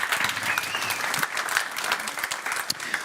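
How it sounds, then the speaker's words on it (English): An audience applauds a conference moderator at a city sustainability event, steady clapping from many hands filling the room throughout, close and fairly loud with no talking over it. "An extra applaud for him."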